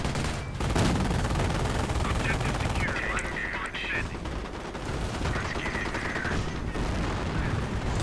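Vickers machine gun fire in a World War II strategy video game, rapid crackling bursts and distant explosions forming a dense, continuous battle din.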